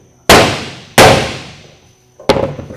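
Three sharp metallic bangs, a hammer knocking a hole in a thin metal roof gutter, each ringing briefly; two evenly spaced, then a third after a longer pause.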